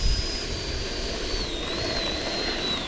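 An XFly Sirius 80mm RC jet comes in to land slowly, its ducted-fan whine steady and fairly close with a gently shifting pitch, carried over constant low wind rumble throughout.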